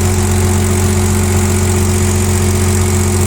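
The diesel engine of a 4.5-tonne Komatsu forklift idles close by, a constant low rumble with an even, unchanging rhythm and no voices.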